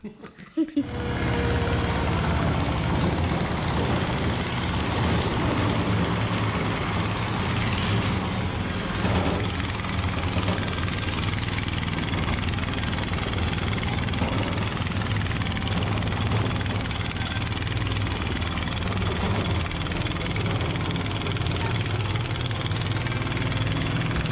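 A Tiger Prowler ditch-digger converted into a track machine starts with a brief crank and then settles into a loud, steady idling engine rumble heard up close for the rest of the clip, with no talking.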